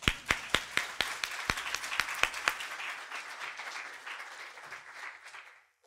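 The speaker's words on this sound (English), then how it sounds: "I want to just clap for that, actually." Keynote audience at a Python community conference breaks into applause, starting with a few loud, sharp, separate claps that merge into a fuller round of clapping before fading out.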